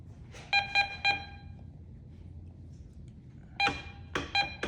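Short electronic beeping tones from a Ricomax 1037 metal detector signalling a coin, in quick bursts of three, a pause, then more beeps, close and clear over a quiet background.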